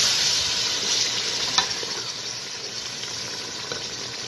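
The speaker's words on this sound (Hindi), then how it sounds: "दो बार इसकी भुनाई कर ली," Kofta masala sizzles and fries in a pan with a little added water while being stirred, giving a continuous hissing bed broken by a few sharp clinks and scrapes of the spoon.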